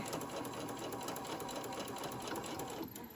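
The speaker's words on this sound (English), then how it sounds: "I'm going to hold the strap in place and just keep sewing." A sewing machine stitching a strap onto a tote bag runs continuously with a fast, even whirring buzz, close and steady before easing slightly near the end.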